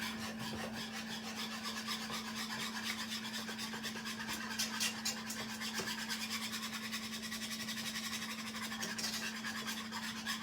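Heavy whipping cream being whisked with a wire whisk: quiet, fast, rhythmic scraping strokes that repeat steadily for about ten seconds over a constant low hum.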